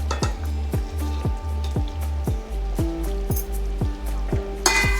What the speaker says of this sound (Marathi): आता मी पनीर टाकत आहे.